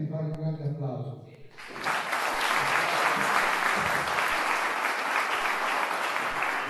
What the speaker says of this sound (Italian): Vi prego veramente di fare un grande applauso.